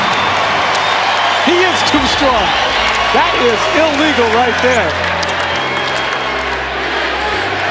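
Loud Cleveland basketball arena crowd roaring and cheering for LeBron James, with a dense sustained swell of noise and clapping under excited commentator speech.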